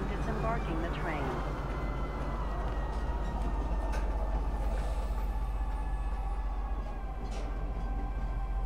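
A train rumbles into a station in Star Citizen, a continuous heavy rolling drone with a faint chime near the start, steady and close throughout while a voice speaks over it.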